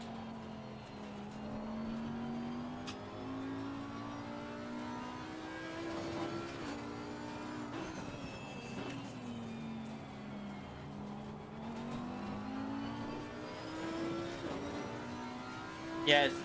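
An Audi race car in Assetto Corsa Competizione, with the engine note rising and falling through gear changes. It sounds steady and moderately close, under a voice speaking.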